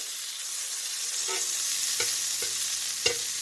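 Butter melts in a frying pan before eggs go in, giving a quiet, steady hiss of sizzling close by, broken by a few soft knocks as it is stirred around the pan.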